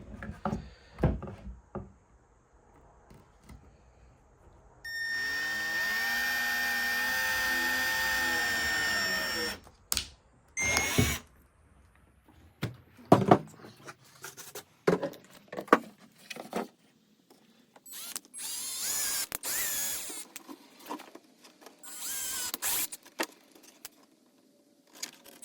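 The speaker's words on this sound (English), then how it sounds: "Now you want to drill out with your pilot hole first before you go with the provided bit." A power drill whirs steadily for a few seconds drilling small pilot holes to mount an accessory on a Ford F-150, then stops, followed by scattered clicks, taps and handling noises.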